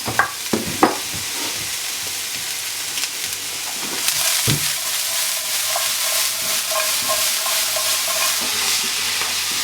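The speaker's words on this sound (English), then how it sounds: "Put a little bit of sugar. We're going to caramelise these onions." Onions with sugar fry in a pan to caramelise, giving a steady close sizzle broken by scraping stirs and a few clacks of a utensil against the pan.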